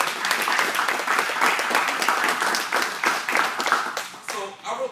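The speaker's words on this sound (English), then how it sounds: "give yourselves a round of applause for just this room" A roomful of people clapping at a school kickoff event, dense and sustained applause with many overlapping hand claps that thins out near the end.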